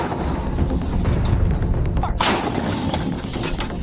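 An army howitzer artillery cannon fires, with a sharp, loud blast midway through a dense, continuous roar and rumble of heavy gunfire.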